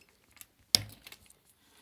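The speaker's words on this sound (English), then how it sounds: "Hope they just come off with the keycap puller." Keycaps pulled with a keycap puller from a dirty Sinclair ZX Spectrum +2 keyboard give one faint, sharp plastic click, surrounded by soft rattles and light handling taps, close up and quiet.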